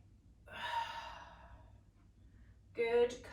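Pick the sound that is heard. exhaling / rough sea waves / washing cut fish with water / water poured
exhaling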